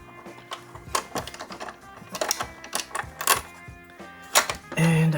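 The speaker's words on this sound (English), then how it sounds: "I'm just going to keep that over the bolt while I unscrew this" Series of sharp metallic clicks and rattles from unscrewing a bolt while holding a 7/32 nut over it, irregular and close, ending with a brief louder scrape.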